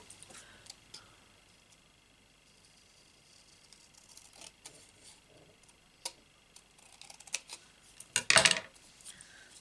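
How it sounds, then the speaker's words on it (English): Designer series paper being cut down to size makes faint scattered ticks and snips, ending in a short, louder burst of cutting near the end in a quiet room. "what I'm going to do is cut this down a bit"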